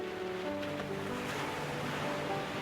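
Continuous ocean waves roll and wash in a steady rush of surf, with no voices.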